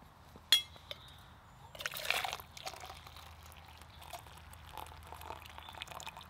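Coffee brewed in a French press is poured into a cup at a bushcraft campsite, a soft liquid trickle and splash following a sharp clink, with faint outdoor ambience and no talk.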